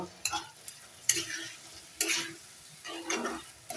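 Washed khoye (jilabi) fruits for pickle being stirred in a pan, four distinct scraping strokes about a second apart over a faint background hiss.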